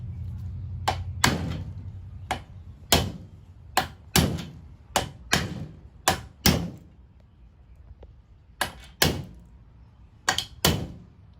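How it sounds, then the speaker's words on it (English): Sharp metallic hammer strikes ring out one at a time in an irregular rhythm, about a dozen close blows, driving a roof rack basket bracket into place on a Toyota 4Runner. "Then hammer the other end in."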